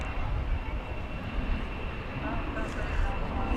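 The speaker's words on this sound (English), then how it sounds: "A Delta Airbus A320 is now on the move." Delta Airbus A320 airliner taxiing at DFW Airport, a broad, steady engine rumble and jet hiss heard from a distance, continuous and slowly building, with someone talking over it.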